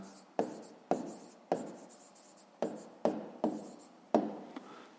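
Pen strokes on paper while a schoolchild writes out the answer to a fifth-grade maths exercise: seven sharp scratching strokes in an uneven rhythm, close and clear, with no talking.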